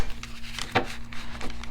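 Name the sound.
shuffling tarot cards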